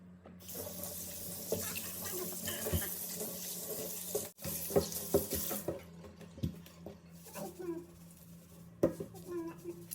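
Tap water runs steadily into a sink while pork tail is scrubbed with salt for crispy pork tail. Soft knocks and handling sounds come over the flow, and someone talks quietly throughout.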